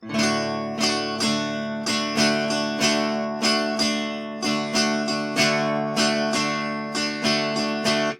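An acoustic guitar strums chords in a steady 4/4 down-up pattern, each stroke ringing out clearly and close.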